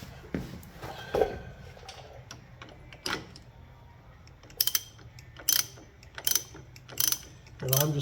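Ratchet wrench clicking on the clutch of a 1961 Harley FL Panhead motorcycle in a garage, irregular close bursts of ratcheting and metallic clacks separated by quieter pauses.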